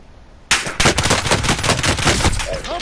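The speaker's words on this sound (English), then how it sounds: "I'm under fire!" Video game gunfire breaking out abruptly after a quiet moment, a loud, rapid machine-gun-like burst of closely spaced shots that continues densely to the end, with no talk over it.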